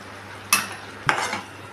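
A spoon stirs beetroot chutney with cardamom in a pan, giving two distinct scraping clinks about half a second apart over a soft, steady sizzle, with no talking.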